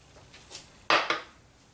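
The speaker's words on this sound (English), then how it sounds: "going to give it a good stir here" A spoon knocks and scrapes against the pot while goulash with tomato paste is stirred in a slow cooker, with two sharp clinks close together near the middle of the clip and no talk.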